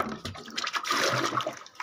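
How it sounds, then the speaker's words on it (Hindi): Water from a tank pours into a bucket being filled to the brim, a gushing, splashing rush that rises and swells for about two seconds, close and fairly loud. "फुल भर लेते हैं बाल्टी को फटाफट।"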